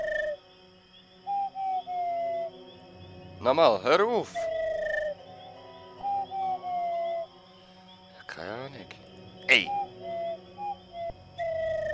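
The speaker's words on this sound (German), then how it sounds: "Ich bin da mit dem blöden Vogel am Reden." In a video game, a bird character gives repeated short whistled calls and chirps between stretches of electronic game music, while a person talks in German over it.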